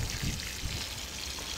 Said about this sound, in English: Is that enough water? No, you gotta give it lots of water.